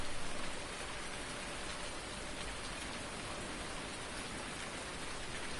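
Steady rain pours in Farming Simulator 19, a dense, even hiss of drops that holds unbroken throughout, loud and close with no voices.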